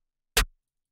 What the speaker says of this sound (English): This is the snare. This is the truth snare.